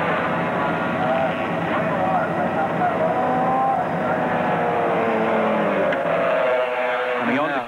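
A Yamaha 700 racing sidecar with aerodynamic skirts screams down the fast Conrod Straight at Bathurst in 1983, its engine a steady, high-revving wail held throughout, with commentary running over the top.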